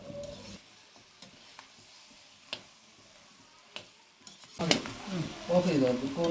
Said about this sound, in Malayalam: ഒരുപാട് നേരം ഒന്ന് ഇളക്കി മിക്സ് ചെയ്ത് നമുക്കതൊന്ന് സെറ്റാക്കി വെക്കണം